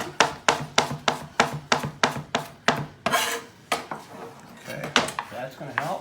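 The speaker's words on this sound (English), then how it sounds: "with the onion, we're going to cut it lengthwise" Kitchen knife slicing an onion lengthwise on a cutting board in a culinary knife-skills class, with a steady run of sharp, evenly spaced chopping strokes, a brief scraping pause, then more cuts; a voice talks faintly beneath.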